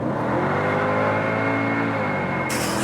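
A Mercedes C55 AMG fitted with an SL55 engine pulls hard from highway speed, its steady, loud engine drone rising in a continuous roar with no talk over it.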